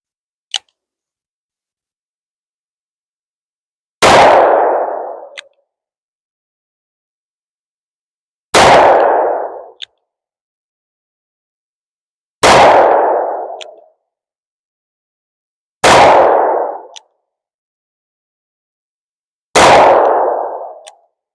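.357 Magnum revolver shots fired at concrete downrange, five loud sharp single reports spaced a few seconds apart with silence between, each with a short echoing tail.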